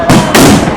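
Firecrackers packed into a burning 55-foot Ravana effigy go off in two loud, close bangs in quick succession.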